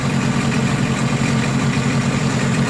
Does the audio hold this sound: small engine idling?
yes